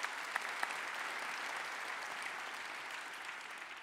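An audience at a French economics conference applauds a speaker after his introduction, a steady, even wash of clapping with no voices over it.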